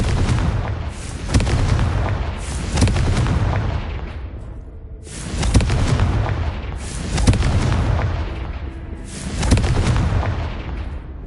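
The Confringo fire-blast spell exploding in Hogwarts Legacy, with four loud, booming blasts at roughly even intervals, each decaying into a roaring rumble.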